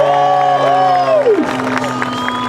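A large outdoor crowd at an air show cheering and whooping loudly, while a sustained tone glides downward and then holds steady underneath.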